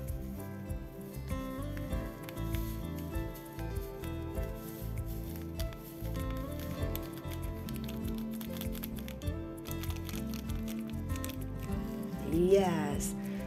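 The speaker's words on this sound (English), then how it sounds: "And pour your citric acid." Citric acid is poured from a packet into a glass of water, a soft rustling patter with light clinks, close and quiet under a voice speaking, ending in a brief squeak.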